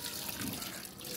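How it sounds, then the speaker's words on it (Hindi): Water splashes from a pour onto upper potted plants during watering, a quiet, continuous hiss and trickle with a soft splash partway through and no voices. "ऊपर वाले पौधों को हम पानी डाल रहे हैं।"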